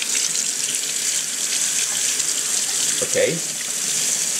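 Steady tap water runs into a sink as an artichoke is rinsed under it, a continuous hiss lasting throughout with a brief spoken word near the end.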